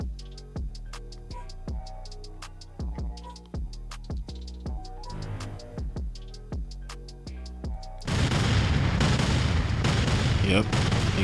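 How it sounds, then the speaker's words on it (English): Fireworks burst in GTA San Andreas: a run of sharp, evenly paced cracks and pops with ringing tails, then a dense, loud crackling barrage in the final few seconds. No one talks. "Yep, there you go, the fireworks."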